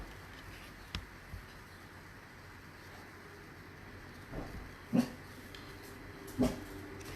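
Indoors, a dog gives a few soft whimpers and then two short, sharp barks, close by over a quiet room background.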